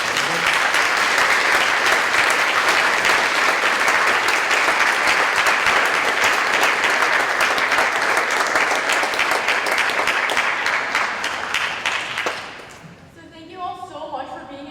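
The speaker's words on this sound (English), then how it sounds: "Please, let's get a round of applause." A large audience applauds steadily at a high school governing board candidate forum, dense clapping holding strong for about twelve seconds before fading out, with a few voices rising near the end.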